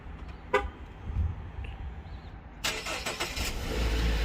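A short electronic beep from a Chrysler 200's remote start, then the engine cranks and catches into a steady idle rumble nearby.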